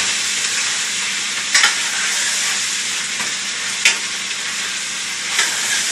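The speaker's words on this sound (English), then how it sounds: "You're going to come back and you're going to stir it." A pot of chicken and dumplings bubbles and sizzles with a loud, steady hiss while a spoon scrapes through it a few times in brief, spaced strokes.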